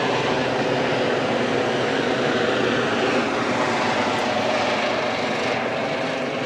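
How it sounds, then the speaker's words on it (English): Steady, loud rotor-and-engine drone of a helicopter passing overhead, broadband and continuous with no voices. "helicopter."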